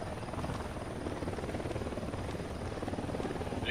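A helicopter in the video game Ghost Recon Wildlands drones steadily with a continuous rotor thrum and low engine hum, medium distance, with no voices.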